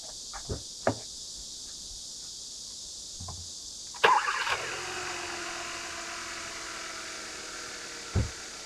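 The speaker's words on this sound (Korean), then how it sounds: "시동 한 번에 잘 걸렸고요." A few faint clicks and thumps, then a used Hyundai Avante AD car engine cranks and catches, settling into a steady, quiet idle hum, with a knock near the end.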